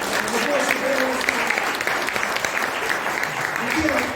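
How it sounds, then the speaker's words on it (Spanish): Church congregation applauding during a sermon, steady clapping across the room with voices calling out over it now and then. "Un aplauso."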